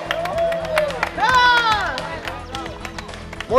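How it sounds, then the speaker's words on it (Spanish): A studio audience at a televised team competition applauds the red team, scattered clapping and crowd noise running underneath loud, excited shouting voices. "Aplaudan a su equipo rojo."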